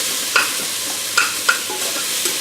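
Spoon scraping through a potato and leek soup base in a pot, a few short sharp scrapes over a soft steady sizzle.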